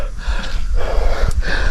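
Heavy, fast breathing of a person resting after a tiring hike up a rural trail, close to the microphone, with ragged gasping inhales and exhales repeating unevenly, no talk.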